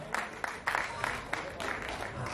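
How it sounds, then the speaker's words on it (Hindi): At a Hindi stage event with a film screenwriter and director, an audience gives a round of applause. The clapping is moderately faint and continuous, with a few louder sharp claps, and no talk over it. "तालियों की गड़गड़ाहट हो जाए।"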